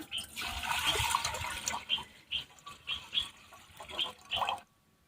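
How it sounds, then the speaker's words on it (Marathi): Water is poured into a cooking pot on a lit wood-fired clay stove: a continuous splashing gush at first, then a series of short, separate pours and sloshes before it stops. "आता ह्या पातेल्यात आपल्याला पाणी ठेवायचं आहे"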